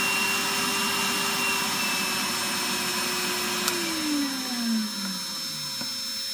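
Pedicure drill machine with vacuum suction running, a steady loud whine and airy rush whose motor pitch glides down as it slows, heard alone without talk.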